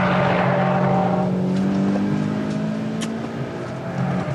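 Mitsubishi Lancer Evolution drifting sideways on track, its engine droning loud and close with harmonic revs and a brief sharp tire squeal partway through.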